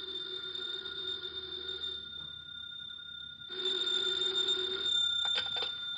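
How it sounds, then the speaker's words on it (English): A telephone rings in a radio drama, a jingling bell tone that keeps going and then gets louder and fuller near the end, with no voices over it. "the phone in the Lawrence house on Berry Hill Lane began to jingle"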